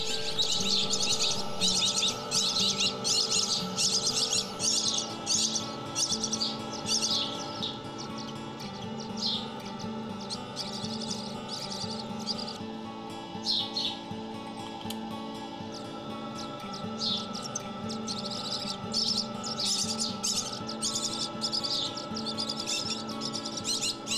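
Baby birds chirp nonstop at a wildlife rescue centre, a dense, close chorus of high, rapid tweets and calls running loud and alone without pause.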